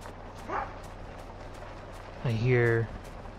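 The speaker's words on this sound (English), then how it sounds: "you might hear my dogs playing in the background" Dogs playing in a room, heard as a short yip followed by a longer whiny bark, slightly distant behind a quiet hum.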